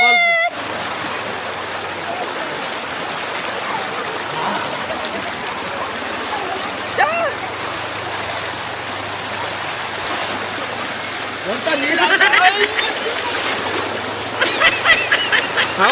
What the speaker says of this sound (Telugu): కొంచెం వాటర్ ఫ్లో అయితే మీద నుంచి వస్తుంది